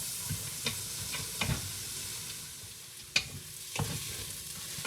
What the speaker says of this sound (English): So the vegetables have nicely sauteed